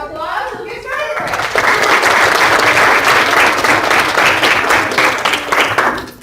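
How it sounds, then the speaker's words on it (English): An audience at a kids' Lego bucket race event bursts into loud, sustained applause lasting several seconds, following a brief spoken introduction and tapering off at the end. "give him a big round of applause"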